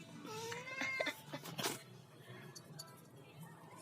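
A pet cat meows several times close by during a morning walk, the calls overlapping soft background noise and brief speech, then fading to quieter ambient sound.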